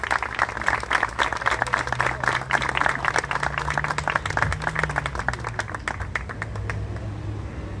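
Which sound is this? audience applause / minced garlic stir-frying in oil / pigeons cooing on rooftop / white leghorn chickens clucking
audience applause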